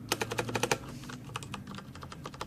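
Typing on a Viper V760 computer keyboard: rapid, crisp key clicks in irregular bursts, close up and clear, with no voices.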